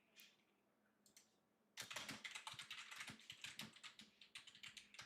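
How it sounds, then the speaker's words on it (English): Rapid keystrokes clatter on a computer keyboard, starting after a quiet pause and continuing as a steady, close run of clicks. "I'm typing it out."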